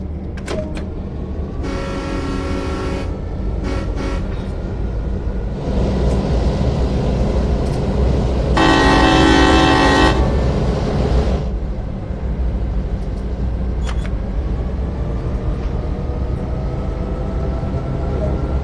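A locomotive in a train simulator game pulls away under light throttle, with a steady low engine rumble beneath several loud bursts of hissing air and mechanical whirring.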